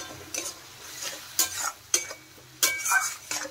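Spice paste with tomato puree being stirred and fried in a pan, a soft low sizzle broken by several sharp spatula scrapes and knocks at irregular intervals, close by with no talk.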